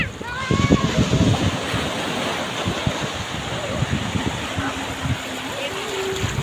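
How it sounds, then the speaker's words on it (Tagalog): Big ocean waves break on a beach in Quezon, a broad rushing roar of surf with wind buffeting the microphone, while people talk faintly in the background. "Ganda yung malaking alon."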